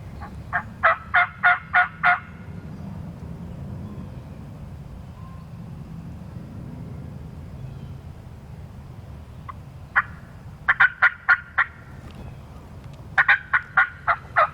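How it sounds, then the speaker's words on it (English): Young male wild turkeys (jakes) yelp in bursts of rapid, evenly spaced calls, a run of five or six at the start and more clusters later, moderately loud over steady low outdoor background noise. "we could hear these jakes doing some jake yelps out in front."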